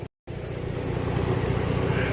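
A 2011 Ford Edge engine idles steadily up close after a brief silent gap, a continuous low mechanical hum with faint ticking, no talk over it.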